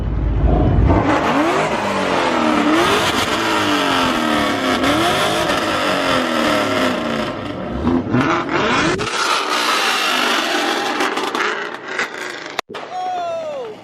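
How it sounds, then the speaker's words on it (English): A loud car at a car meet revs hard in repeated rising and falling sweeps, close and overpowering, before dropping off abruptly near the end; a voice speaks faintly over the roar. "that is officially the loudest car here"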